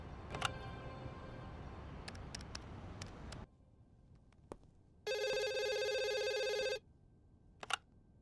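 A telephone rings once in a quiet room, a bright electronic trill lasting under two seconds, with faint clicks and a low background hum before it.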